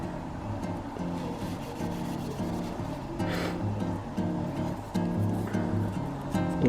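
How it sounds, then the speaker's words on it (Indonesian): Sandpaper is worked over the cleared paint on a 1970s Dodge Charger Revell plastic model kit car body in steady back-and-forth strokes, close and moderately loud, with no talking. "baru diamplas seperti ini."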